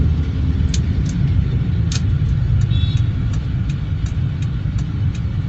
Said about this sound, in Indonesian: Masukkan kopling full, pindah gigi rendah, turunkan giginya, maksudnya injak gas perlahan